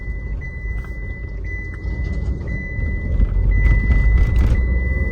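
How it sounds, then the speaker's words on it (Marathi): A car's driver seat belt warning chime repeats in a steady, evenly spaced series of beeps over the low rumble of the running engine inside the cabin. "आता हे सीट बेल्टचा आवाज देणार गाडी."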